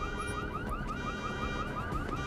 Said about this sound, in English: as I set off that car alarm